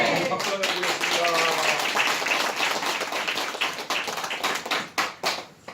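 A church congregation at a New Year's Eve service claps together, a full wave of many hands with voices mixed in, thinning into scattered individual claps near the end.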